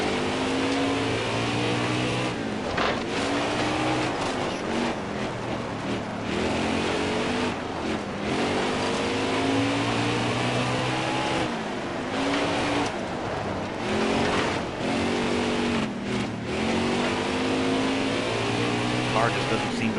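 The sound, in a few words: race car engine in video game NASCAR Heat 4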